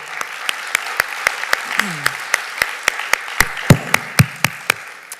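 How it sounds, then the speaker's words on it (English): Audience applause at a community relations council press conference comes as a steady run of crisp, evenly spaced claps, close and prominent, with a voice briefly speaking underneath. "So a round of applause for all of you."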